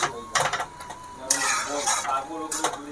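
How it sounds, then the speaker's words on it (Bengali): Spoon stirring a fish curry with poppy seeds and papaya in a pan, giving several close scraping, clattering bursts with a soft sizzle underneath and no talking. "এই যে আমি নাড়াচাড়া করে দিচ্ছি"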